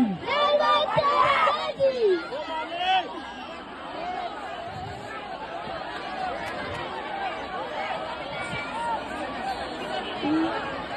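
A dense crowd at the Lalbaugcha Raja visarjan procession in Mumbai, a steady loud babble of many voices with chanting and shouts rising near the start and continuing throughout.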